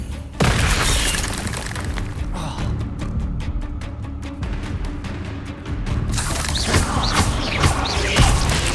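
Confringo fire-blast spells in Hogwarts Legacy erupt in loud booms with shattering crashes and crackling debris, a sharp hit near the start and another burst later amid rapid clicking combat effects.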